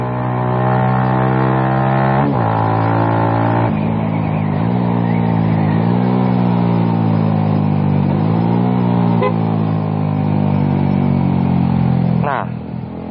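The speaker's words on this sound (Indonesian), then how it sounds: "usahakan untuk denger RPM motor gua. Perhatikan RPM motor gua" A motorcycle engine drones loudly and steadily under engine braking with a slipper clutch, its pitch dipping and rising through several downshifts as it slows, with a voice faintly under the engine noise.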